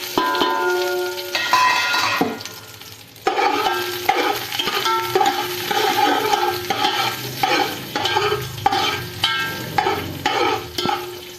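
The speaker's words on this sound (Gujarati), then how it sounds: "હવે ઘીમાં આપણે આ ડ્રાય ફ્રૂટ એડ કરી દઈશું" Dry fruits fry in hot ghee in a pan while a spoon stirs them, giving steady sizzling with repeated scraping and clinking strokes, close and fairly loud, with no talking.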